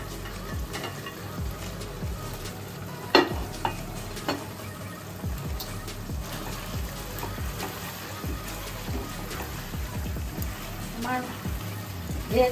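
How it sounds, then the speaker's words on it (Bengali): Veg Manchurian kofta balls dropped into bubbling gravy and stirred, a soft constant sizzle with scattered scrapes and clinks of the spoon, close but fairly quiet, with someone speaking now and then. "আমার গ্রেভিটা রেডি হয়ে গেছে, এখন আমি কোপ্তাগুলো দিয়ে দিচ্ছি"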